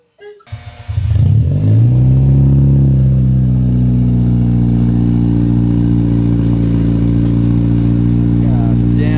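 Race car engine starts up and revs to a loud, steady roar, holding a deep, rumbling idle throughout at close range; a Kia Stinger is nearby.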